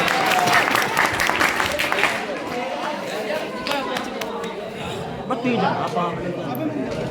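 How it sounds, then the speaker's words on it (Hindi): A crowd at a religious katha gathering applauds in honour of a guest, broad clapping loudest at the start and then continuing steadily under a layer of chatter and voices. "भाई हमारे भैया के सम्मान में जोरदार ताली बजाइए।"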